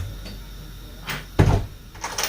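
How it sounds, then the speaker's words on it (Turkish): A kitchen door swings shut at home with a single solid thud, a softer bump of handling just before it, and a dishwasher running quietly in the background. "Şu mutfağın kapısını örteceğim çünkü görmem fare falan gider."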